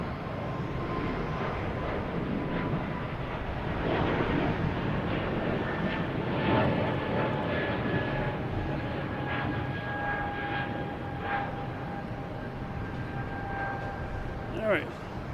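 An Airbus A321 airliner arriving from Philadelphia at Boston Logan Airport gives a sustained jet engine rumble with faint whining tones. A person talks over the steady roar throughout.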